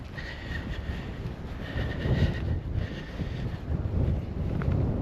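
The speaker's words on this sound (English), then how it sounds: "It's getting really windy." Strong wind buffets the microphone outdoors on the Faroe Islands near a ferry, a loud steady roar with gusts rising and falling throughout and no one speaking.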